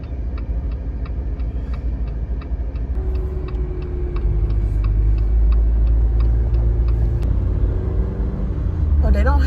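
A car rolls smoothly on freshly fitted new tires, giving a steady low road rumble with a faint regular ticking, like a turn signal, running through most of it.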